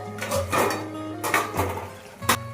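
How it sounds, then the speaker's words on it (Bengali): A metal lid is lifted off a cooking pot of potatoes and drumsticks in poppy-seed paste, giving a few close clanks and scrapes against the rim, over a steady kitchen hum. "পাঁচ মিনিট পর আবারও ঢাকাটা খুলে দেখছি কি অবস্থা।"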